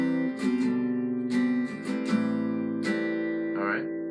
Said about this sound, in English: we're going to be bass walking, so down